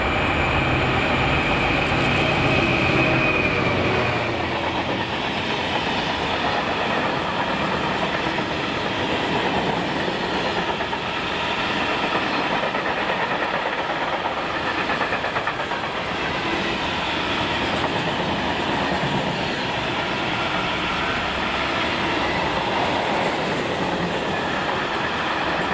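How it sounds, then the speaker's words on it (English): Class 66 locomotive 66740 hauling a loaded car freight train past Howwood on the Ayrshire coast, a steady, loud rumble and clatter of wagons rolling by continuously, with a brief higher squeal early on and no talk. "a very unusual diverted 6X77 1358 Dagenham to Mossend loaded car train, passing here at Howwood on the Ayrshire coast"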